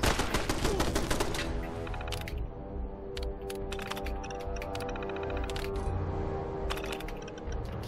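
Turrets in Fallout 4 fire rapid bursts of automatic gunfire, a dense, loud, continuous clatter of shots with sharp crackling peaks, lasting throughout without talk.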